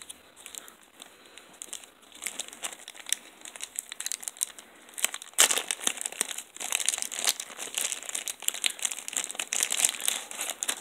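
Plastic packaging from a bag of baseball trading cards crinkles and tears close by, a long run of dense, irregular crackling that grows louder partway through, with no talking.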